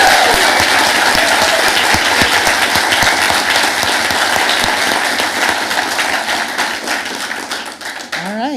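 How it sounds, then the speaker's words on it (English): A big audience applauds graduating undergraduates at a 2023 graduation ceremony, with loud, dense, sustained clapping throughout that fades slightly toward the end. "Why don't we give one more round of applause for our undergraduates?"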